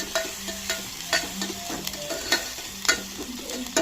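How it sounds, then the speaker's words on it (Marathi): Ginger-garlic paste and onion sautéing in a pan, a steady frying sizzle broken by regular scraping stirs of the spatula, close and moderately loud with no voices. "हे आलं लसूणचं वाटून घेतलेलं वाटण, कांदा हे सर्व आता छान परतून घेऊयात"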